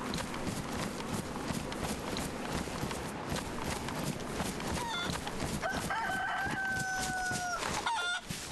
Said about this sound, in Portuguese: Só não sei onde tá esse outro galo aí.